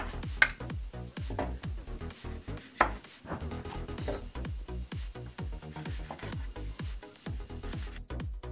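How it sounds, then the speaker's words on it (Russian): A knife slices a lemon into rounds, rapid, even strokes thudding against a board, close and steady, with a couple of sharper clicks mixed in. "Далее мы нарезаем лимон кружочками."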